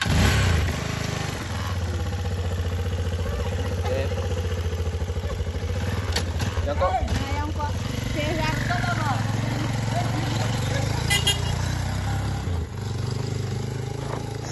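An Apsonic motorcycle engine idles and rumbles steadily at close range for the whole stretch, with brief clattering and a person speaking over it.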